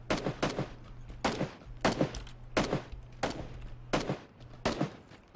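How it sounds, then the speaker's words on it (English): Gunfire in the battle royale game PUBG: a run of sharp shots in rhythmic pairs and bursts, about eight in all, moderately distant and fairly faint, with no talking. "Where is that and who's he shooting at?"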